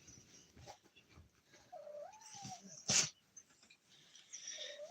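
A dog whimpers in a few thin, rising whines, one sustained near the middle and another at the end, with a sharp burst and light background talk around them.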